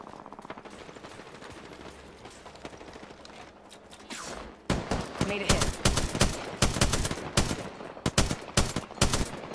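Gunfire rattles in Apex Legends, with fast automatic bursts and single shots in irregular clusters that grow much louder and sharper in the second half, over game sounds and voices.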